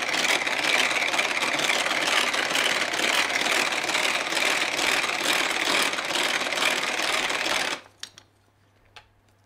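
Egg whites whipped to stiff peaks in a Tupperware mixer, a fast, steady mechanical whirring and clattering that runs loud for about eight seconds, then stops abruptly, leaving a faint hum and a couple of small knocks.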